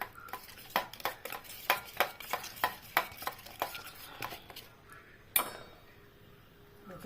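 Batter for paneer being stirred and mixed in a bowl, a steady run of rhythmic scraping strokes up close, then a single louder clink against the rim near the end.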